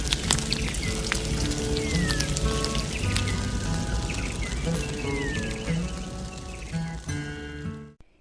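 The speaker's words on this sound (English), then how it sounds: "Looks like the rain has come in and it's really pissing down cats and dogs." Heavy rain pours down steadily, a dense hiss of drops beating on a surface with sharper patters throughout, close and continuous before easing near the end.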